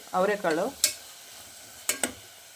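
Tomato frying in oil for a Malabar spinach and jackfruit seed sambar, a faint sizzle in the background with a few sharp stirring clinks; a voice speaks briefly at the start.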